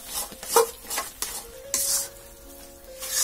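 Spinach curry made with palong greens sizzles in a pan while a utensil scrapes and stirs it in repeated strokes, with soft clinks of metal against the pan over a steady frying hiss.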